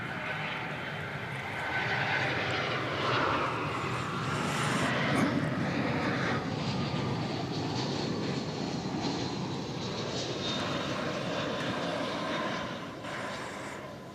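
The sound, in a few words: British Airways A380 aircraft engines at DFW Airport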